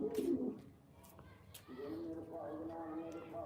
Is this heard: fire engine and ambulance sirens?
no